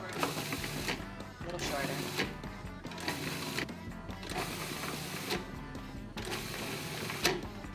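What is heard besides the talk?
food processor pulsing to chop ingredients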